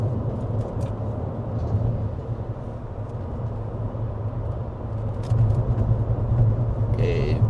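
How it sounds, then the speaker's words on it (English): A Leapmotor C10 electric SUV rolls over rumble strips, giving a steady low road rumble that gets a little heavier toward the end, heard from inside the cabin. "that's pretty well over the rumble strips"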